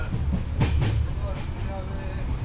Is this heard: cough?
no